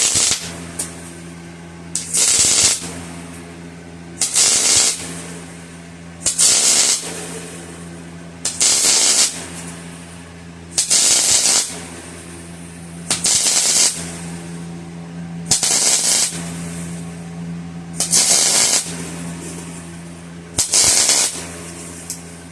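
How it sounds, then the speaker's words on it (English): Zinc sizzles and pops inside a freshly welded pipe on a blueberry spray rig: short bursts of crackling, popping sizzle in a steady rhythm about every two seconds, roughly ten in all, over a low constant hum. "I hear the zinc crackling and sizzling and popping inside that pipe"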